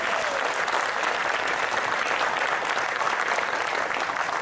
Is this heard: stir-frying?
no